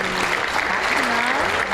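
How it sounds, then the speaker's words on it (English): A podcast studio audience applauds steadily, a dense and fairly loud patter of clapping hands that lasts under two seconds, with a faint voice tone rising beneath it. "Let's give her a round of applause."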